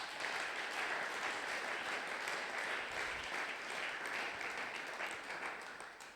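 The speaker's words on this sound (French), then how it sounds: "Est-ce qu'on peut acclamer très fort pour la gloire de Jésus?" A church congregation at a Sunday thanksgiving and praise service applauds and cheers loudly for Jesus, a steady dense wash of clapping that fills the room for several seconds and fades slightly at the end.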